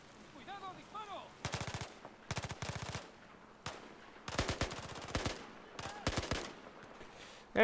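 Battlefield 4 gunfire on PC erupts in repeated sharp bursts of automatic shots, loud and close, separated by short pauses, with a brief voice early on before the firing starts.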